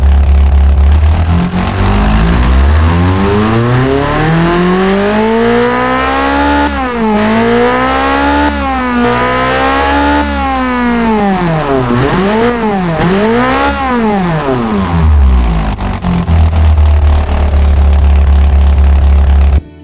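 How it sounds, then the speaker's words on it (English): A racing car engine with a zero-quality exhaust on a purpose-built track car in the Automation game roars loudly and harshly, revving up and down repeatedly in rising and falling sweeps, with a deep idle at the start and end. "this is the sound of the engine with zero quality"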